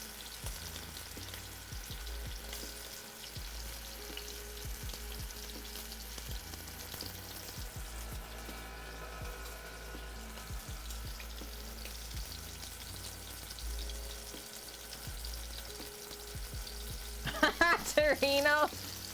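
Beef tenderloin roast searing presentation side down in a hot pan, a steady low sizzle running throughout with faint background voices, then a brief clatter of louder clinks near the end.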